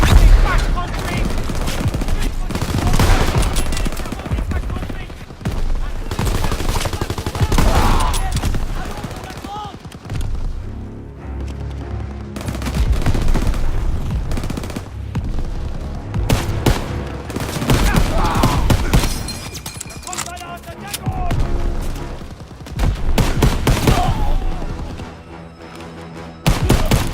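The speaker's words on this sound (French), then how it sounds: "Les PAC 38 nous tirent dessus!" Heavy gunfire in a Call of Duty WWII battle, with PAK 38 anti-tank guns firing among rifle and machine-gun bursts, loud booms and fusillades in dense waves, with shouted voices of soldiers over the din.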